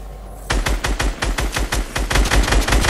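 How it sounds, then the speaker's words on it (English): Rapid automatic gunfire from the video game Fortnite, a fast rattling burst of loud close shots that begins after a short quiet lead-in and continues steadily to the end. "why are you shooting down?"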